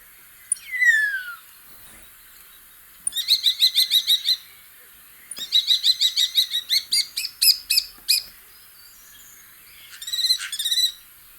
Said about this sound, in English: Flocks of this bird move in unison and is called a murmuration.